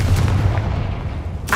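A Confringo blasting spell cast in Hogwarts Legacy (2023) erupts as a loud, low, rumbling blast that rolls on for over a second, with a sharp crack at the very end.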